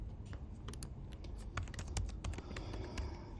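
Rapid clicking of a computer keyboard as someone types a course entry, irregular keystrokes close up at a brisk, steady pace, alone without talk.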